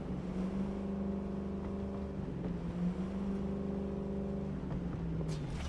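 A car driving in the video game Cyberpunk 2077, giving a steady engine drone with sustained tonal harmonics and a slight rise and fall in pitch, continuous and fairly loud throughout.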